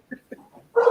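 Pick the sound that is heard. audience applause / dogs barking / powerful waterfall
dogs barking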